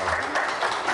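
A brief burst of clapping rises for the 2019-2020 head of the Kuzköy association at a community gathering, fairly dense and moderately loud, with no talk over it.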